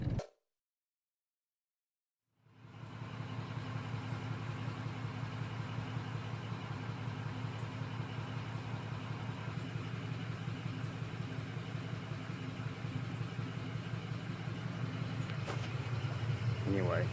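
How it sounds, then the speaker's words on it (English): A truck engine idles steadily with a low, constant rumble after a brief silent start, sitting close and loud throughout. "I actually had already started my truck"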